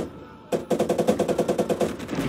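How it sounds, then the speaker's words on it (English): Rear turret machine gun of a tank firing in the Call to Arms Gates of Hell war game, a single rapid burst of about fifteen evenly spaced shots, loud and close, after a quiet lead-in. "the rear turret's firing"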